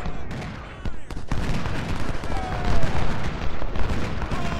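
Riflemen firing in Ultimate General: Civil War, a dense crackling volley of many musket shots rolling on without pause, with sharp individual reports at the start and distant rumbling under the steady battle din.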